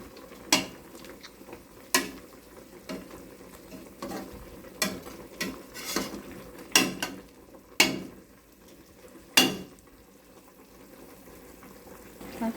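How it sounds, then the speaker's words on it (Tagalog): Pork and chicken adobo with whole peppercorns and bay leaves is stirred in a pot, a spoon clanking and scraping against the metal every second or so, fairly quiet with no voices. "Tapos halo-haloin."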